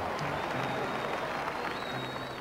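Steady, dense applause from a crowd after a political address by Marcus Garvey, loud and continuous throughout with a hissy, archival quality.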